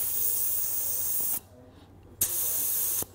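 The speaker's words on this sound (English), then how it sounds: "I can let some of that out by hitting the bleeder valve." Air hisses steadily out of an off-road tire through the bleeder valve of a Viair portable compressor, a loud close spray that cuts off, then bursts back on and stops again.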